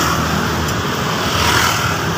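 Heavy traffic on EDSA in Manila on a rainy day, a dense, continuous roar of cars and buses that stays loud and steady with no breaks.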